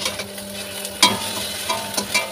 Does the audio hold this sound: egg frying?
yes